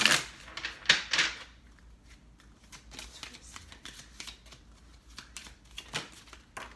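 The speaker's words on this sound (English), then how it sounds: "All right, this will be our last shuffle." Cards are shuffled in several quick riffling bursts, crisp and close, followed by softer shuffling and tapping.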